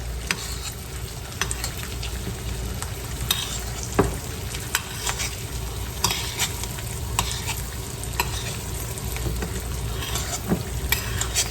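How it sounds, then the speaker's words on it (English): A sunny side up egg is basted in a hot skillet over medium-high heat, sizzling steadily and close with frequent sharp spoon scrapes and clicks against the pan. "Baste over the yolk as well, guys. Keep basting it."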